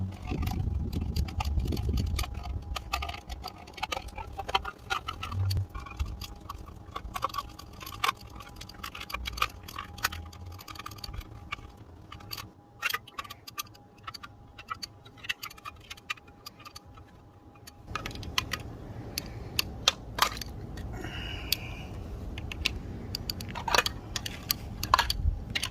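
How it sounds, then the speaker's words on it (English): A Schrade Tough Tool ST1NB multitool's can opener clicks and ticks in a steady series of small metallic cuts as it works around a large 10 cm can, close up with short pauses. "I'm going to test the can opener with a large can."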